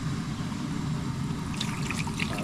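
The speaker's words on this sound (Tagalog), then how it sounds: "Bali mga 2 basong tubig ang lagay natin." About two glasses of water pour into a cooking pot for a red snapper sauce, a steady close splashing trickle that brightens toward the end.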